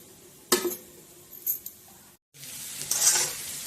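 Greens frying in spices with jackfruit seeds and potato, heard as a soft sizzle with a few sharp scrapes and clinks of a utensil against the pan, a brief cutout, then a louder, brighter frying hiss. No one speaks.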